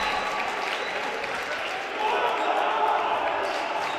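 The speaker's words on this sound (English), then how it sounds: "Capacity crowd loving it here." A capacity crowd at a men's college basketball game creates a loud, continuous roar of cheering that swells midway. The noise stays loud throughout, with a voice talking over it.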